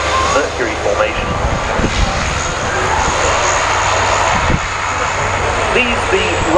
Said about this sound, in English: These the last of the fly-past aircraft to land for the moment